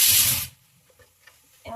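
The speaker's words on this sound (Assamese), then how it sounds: "তাৰ কাৰণে কুকাৰে ফুচেল মাৰি আছে" A kitchen pressure cooker vents a loud burst of hissing steam for about half a second, then cuts off into quiet room sounds.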